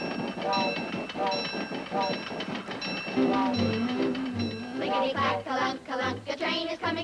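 A train sound effect with rhythmic clickety-clack and chugging plus whistle-like tones, playing under sung vocals that imitate the train's rhythm.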